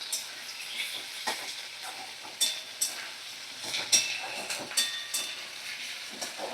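Vegetables and spices with goat liver are stirred in a pan over a medium flame. A spatula gives irregular, close scrapes and clacks over a light sizzle, and no one speaks.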